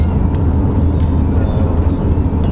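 A Porsche 944 cruises in fifth gear, its engine giving a loud, steady low drone with road and wind noise inside the cabin and no break in the sound.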